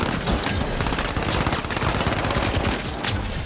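Rapid, continuous SMG gunfire in the shooter game The Finals, a dense loud rattle of shots that holds steady for several seconds with no pauses.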